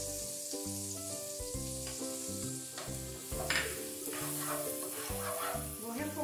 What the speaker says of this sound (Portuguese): Vou refogar a cebola, o alho na manteiga.